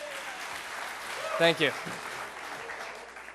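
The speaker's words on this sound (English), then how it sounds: "Nice round of applause." Audience applause at a Les Paul tribute event at Full Sail University, a steady clapping wash filling the room while someone says a few words over it.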